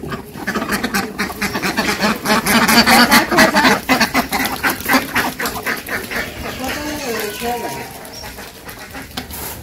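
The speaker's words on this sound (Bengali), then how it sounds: "চিল্লাচিল্লি করতেছে হাঁসে" A flock of village ducks, just let out in the cold morning, quacks loudly in rapid overlapping bursts, near and persistent, with a person talking at times underneath.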